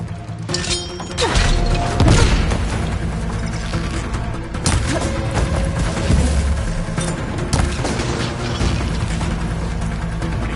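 Cannon fire in the video game Horizon Forbidden West: Burning Shores, a loud mechanical barrage of booms and thuds with rapid repeated blasts and crashing impacts over a dense battle soundscape.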